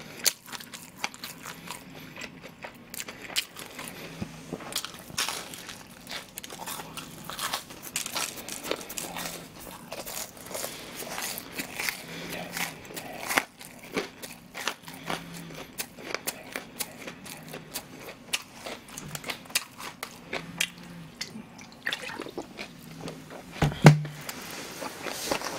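Crispy deep-fried pork cutlet (tonkatsu) is bitten and chewed close to the mic, with repeated crunches and crackles in irregular bursts throughout, and no voices.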